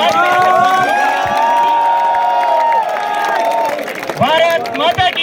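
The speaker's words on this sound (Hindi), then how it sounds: "एक बार तालियों की गड़गड़ाहट के साथ ऊपर हाथ करके जोरदार तालियों के साथ आवाज में" Large crowd at a cultural program cheering and shouting with loud sustained applause, voices rising in long calls over clapping, then breaking into ragged chants toward the end.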